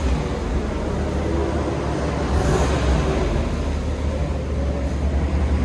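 A stock-exhaust 6.4L HEMI V8 in a 2022 RAM Power Wagon idles quietly, a steady low rumble with broad, even noise and no voices.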